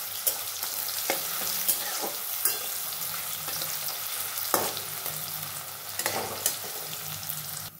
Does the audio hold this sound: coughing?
no